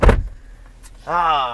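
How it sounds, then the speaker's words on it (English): Power running boards on a luxury SUV retract after a brief clunk, giving a smooth electric motor whine that starts partway through and holds steady and close. A short voice is heard at the start. "That was the sound of the running boards going up again."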